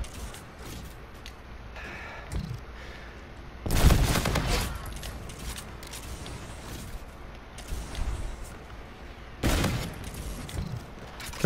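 Gunfire in a video game: scattered distant pops with two heavy, loud bursts of rapid shots up close, separated by quieter stretches of ambient battle noise.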